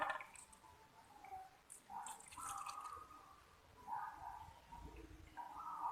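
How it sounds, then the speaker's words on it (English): Milk poured into a pan, heard as a faint, close liquid trickle with soft drips and splashes that swell and ease over several seconds, with no talk. "you need to pour this 500 milliliters of milk into this pan"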